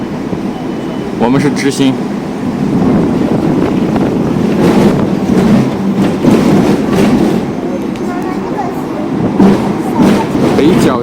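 Hong Kong's electric double-decker tram rolls along its street tracks toward Shau Kei Wan, a steady rumble and rattle of wheels and carriage with wind noise, while a passenger talks over it.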